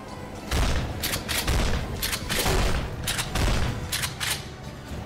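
Repeated gunshots in the horror shooter To The End of Days fire in loud, closely spaced bursts across the clip, with sharp cracks and heavy low thumps and no talking.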